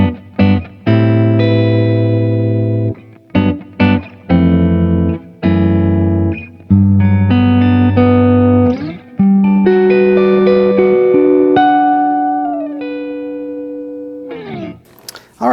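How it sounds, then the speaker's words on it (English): Harley Benton electric guitar on its neck humbucker pickup, played as a series of sharp chord stabs with gaps, then sustained ringing notes and bends, loud and clear with no talking. "let's kick things off with the neck humbucker"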